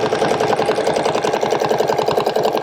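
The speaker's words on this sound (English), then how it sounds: "I'm going to get a couple of them to lock in my stitches. All right, and I am now going to stitch from A" Sewing machine stitching a quilt border along a 3-inch cable template, a loud, steady rapid whirring and ticking that runs without pause.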